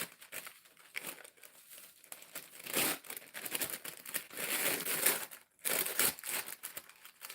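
Paper seed bags crinkle and rustle on a desk during seed sowing. The crackling is close, fairly quiet and irregular, with bursts of handling and short pauses and no talking.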